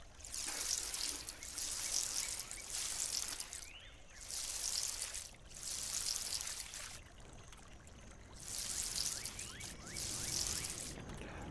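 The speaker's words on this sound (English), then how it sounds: "So let me go ahead and water this." Water pours from a watering can onto crops in the video game Dinkum, a soft steady trickle that rises and falls in repeated pours of a second or two, with short gaps between them.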